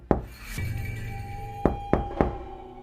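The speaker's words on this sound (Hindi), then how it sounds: "दरवाजे पर कोई लगातार खटखटा रहा था।" Knocking on a door in an eerie jungle setting: a single knock, then a pause under a low hum, followed by three sharp, close knocks at a steady rhythm.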